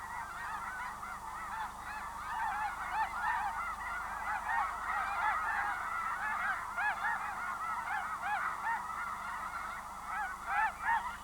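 Many geese call together on a wildfowl refuge with crop fields, a steady, thick wall of honking that rises and falls throughout, nearby and loud, with no talking.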